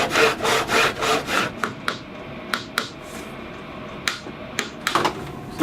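Wood trim being cut with a very old hand saw in a miter box: several rhythmic back-and-forth rasping strokes up close, then scattered knocks and clicks as the saw and trim are handled.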